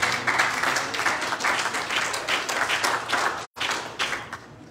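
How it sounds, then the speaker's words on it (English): A church congregation claps their hands to the Lord during a sermon by Bishop Morrison: steady, full applause from many people that breaks off briefly, then resumes and continues. "Would you clap your hands to the Lord?"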